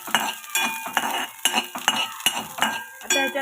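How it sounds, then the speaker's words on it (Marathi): Ginger and green chillies are sautéed in a pan for a veg momo filling: a spatula scrapes and clinks against metal in a steady rhythm about twice a second, close and loud over a faint sizzle. "आलं, मिरची हे आधी परतून घ्यायचंय."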